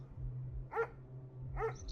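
Dogs barking at night in a tense, spooky setting: two separate barks, about a second apart, ring out at moderate distance over a low, steady background hum.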